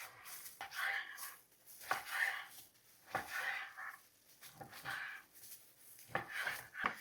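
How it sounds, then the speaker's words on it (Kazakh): Knife slicing through raw meat on a board for byzhy, a Kazakh stuffed sausage, with a series of moderate cutting strokes in an irregular rhythm, close by, and no talk. "Бірінші етімізді кесіп аламыз."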